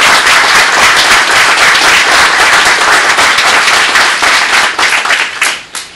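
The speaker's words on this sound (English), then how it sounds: "round of applause." A hall full of guests at a hospital foundation fundraiser gala claps loudly and steadily, the applause thinning and fading out over the final second.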